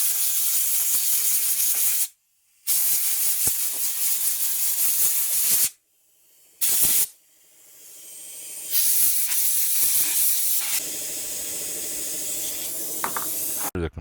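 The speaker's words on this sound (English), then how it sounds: "The compressor kicked on in the background." A large 80-gallon tank air compressor kicks on in a workshop where motorcycle carburetors are being cleaned: loud sustained hiss cut by short gaps, then a rising motor hum that settles into a steady running drone.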